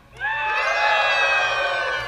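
Live show audience cheering and shouting together, a loud sustained roar of many voices with children's high shrieks, rising quickly and holding steady.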